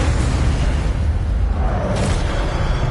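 A fire spell in Hogwarts Legacy erupts as a loud, dense roaring burst of flame, a sustained noisy whoosh lasting a few seconds, with no voices.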